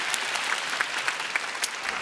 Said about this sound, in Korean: 대박 나라고 박수 한 번 더 주세요.